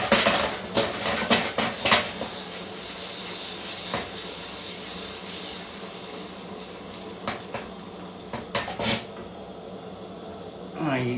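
Hot cooking oil giving off steam hisses steadily in a broad wash, with sharper crackling bursts near the start and again toward the end, close and fairly quiet, while someone talks intermittently.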